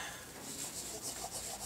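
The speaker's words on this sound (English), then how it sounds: "It doesn't take much when you're using a coarse file" A coarse file undercuts a guitar's edge at a 45-degree angle, making a soft, steady rasping scrape in rapid back-and-forth strokes, quiet and close.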